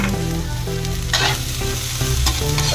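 Tofu, carrot and cabbage stir-frying for seafood pancit canton, a steady loud sizzle with rhythmic scraping and stirring strokes from a spatula in the pan, close up and with no talking.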